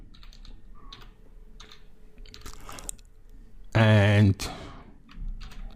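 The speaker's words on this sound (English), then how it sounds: "I'll just type in Google," Typing on a computer keyboard, several quick clusters of key clicks, close and moderately loud, with a short burst of voice partway through.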